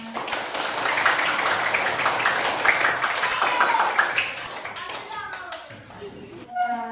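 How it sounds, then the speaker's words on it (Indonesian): A school class claps together after finishing a game, steady energetic clapping filling the room for several seconds before fading, with a voice speaking at the end. "Silakan tepuk tangan."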